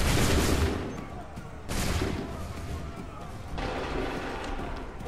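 Musket volley gunfire in Assassin's Creed III at Lexington and Concord: three loud, broad crashing bursts at roughly even intervals, each a dense roar of many shots that trails into rumble, with voices shouting orders in the background.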